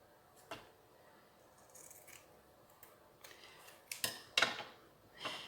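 Scissors snip through ribbon cut on the bias near lace trim for a small craft embellishment, a few quiet scattered snips growing louder and closer toward the end, no talking.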